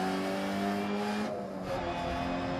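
Mini Cooper S rally car at full throttle on the Monte-Carlo rally stage in DiRT Rally, its engine note held high and steady with a brief dip near the middle, like a gear change, and no talk.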